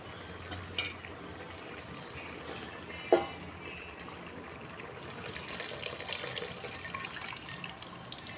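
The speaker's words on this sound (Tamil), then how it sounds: "இப்போ கொஞ்சமாக புளி ஊற்றிக்கலாம்" Tamarind water is poured into a pot of neem flower kuzhambu as it cooks, giving a steady, fairly faint watery splash and trickle with a brief louder splash midway and a fuller stream toward the end.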